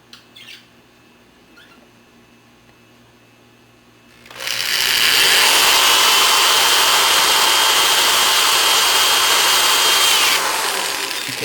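A power drill bores a hole through 3/4-inch PVC pipe for nunchucks, starting after a few quiet seconds with a loud, steady high whine that holds for about six seconds, close up, then winds down.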